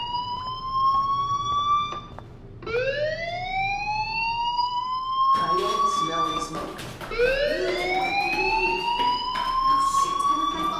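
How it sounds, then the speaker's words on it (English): In the video game Life is Strange, a fire alarm wails in a school building, each loud tone sweeping upward in pitch and then holding, repeating several times in overlapping cycles. "do you hear that fire alarm? That means you should be outside."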